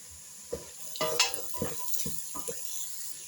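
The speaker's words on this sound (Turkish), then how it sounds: "Hepsini beraber kavuruyorum. Biraz un kavurduktan sonra kaba ve patatesi ekliyorum." Vegetables, flour and potatoes being sautéed together in a pot for a vegetable soup, soft sizzling with a few close stirring scrapes and clinks, no talk.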